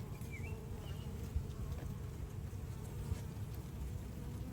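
Honeybees hum in a dense, steady drone at an open hive during an inspection, a continuous buzz close by with occasional individual bees passing near.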